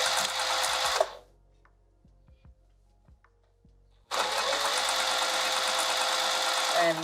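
A sewing machine runs in fast, loud bursts while stitching a dress opening shut, stopping for a quiet pause of a few seconds before starting up again.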